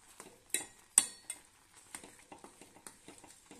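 A spoon stirs a jaggery mixture for a wheat-flour halwa in a pan over low heat, giving a run of close, quiet scraping and clinking strokes with faint sizzling underneath and no talk.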